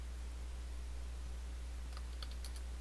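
Soft, quick keyboard clicks from typing in Windows File Explorer come in a short burst near the end, faint under a steady low electrical hum.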